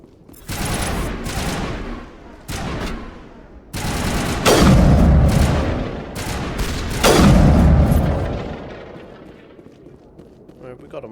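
Loud rifle fire in Mass Effect 1 combat, with sharp shots, rolling bursts and heavy booming impacts that fade out at the end, mixed with speech.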